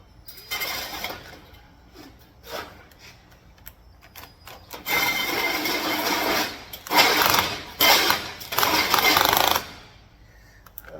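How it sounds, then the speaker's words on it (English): A failing electric drill whines in several bursts of grinding as it bites into metal on a 2006 Ford F-250 flatbed build, with quieter scraping and handling noises in the pauses. "My drill's on its last leg here"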